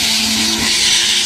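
A BMW M3 and a C22xe turbo car race side by side, their loud engines roaring in a continuous broadband drone with a steady tonal whine, close and unbroken for a moment.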